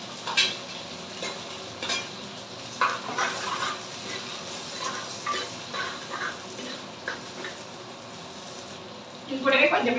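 Onions go into hot oil in a pan for a crab curry, stirred with a utensil. Steady, close sizzling runs throughout, with scraping strokes and a louder burst near the end.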